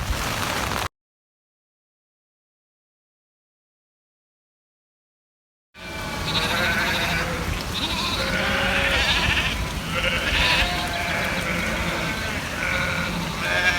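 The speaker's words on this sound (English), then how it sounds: "Sheep getting driven through. But it is a farm, it's a working farm." A flock of sheep bleating loudly and continuously while being driven through a campsite on a working farm, many overlapping calls close by after a brief silent gap, with traffic rumbling faintly underneath.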